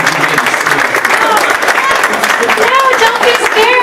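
A conference audience applauds loudly and continuously while people talk and exclaim over the clapping, voices rising in pitch near the end.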